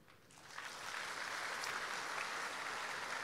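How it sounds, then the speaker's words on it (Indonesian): A church congregation breaks into applause that swells quickly and holds as a dense, sustained clatter of clapping, heard at a distance. "coba tepuk tangan."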